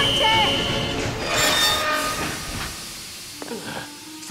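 Train in a dubbed film, with hissing and rumbling at the start that fade away, then a brief metallic squeal near the end, heard in a busy station-like scene.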